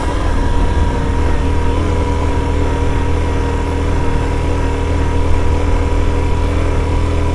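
Steady, loud engine drone runs throughout with a constant low rumble, like traffic passing close by on a steep mountain road in Bandarban, Bangladesh, heard during a motorbike ride; no voices.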